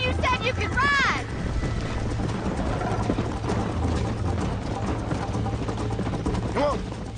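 Horses gallop in a Red Dead Redemption race, a continuous rumbling clatter of hooves under wind and game noise, with a horse whinny near the start and another near the end, and a character voice speaking over it.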